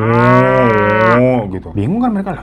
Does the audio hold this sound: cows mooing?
yes